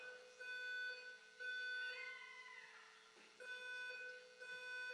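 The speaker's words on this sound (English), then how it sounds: "Fire alarm?" A fire alarm sounds during a public works board meeting, a faint steady electronic tone pulsing on and off in long repeated cycles, heard alone without talk.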